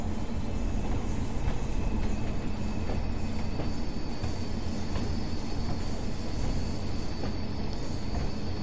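A Pacer diesel multiple unit runs on rails between Blackpool South and Ormskirk, giving a constant rumbling roll with faint periodic clicks from wheels over rail joints, heard steadily from inside the cab.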